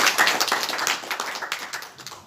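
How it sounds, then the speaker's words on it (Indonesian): An audience claps for the organizing committee at a community gathering, a dense patter of many hands that starts strong and slowly thins out over a couple of seconds. "Tepuk tangan untuk panitia semuanya"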